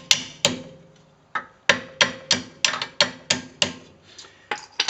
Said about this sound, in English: take a hammer and very gently hit the pad just to loosen it up